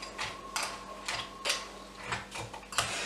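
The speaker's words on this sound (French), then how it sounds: "Et je viens ensuite mélanger la préparation." A spoon clicks and scrapes in a bowl as bircher muesli is mixed with milk kefir: a handful of short, sharp, irregular strokes close up.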